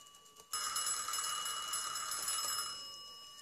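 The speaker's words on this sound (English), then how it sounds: "Phone ringing." An old-style telephone bell rings in one continuous bright burst of about two seconds, then fades, heard in a music video with no one talking over it.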